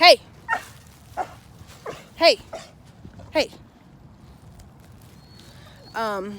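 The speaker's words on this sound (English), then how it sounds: "Damn dogs." Several dogs bark in a quick irregular series of sharp yaps and woofs, fairly close. A person speaks partway through, and a higher whining sound comes at the end.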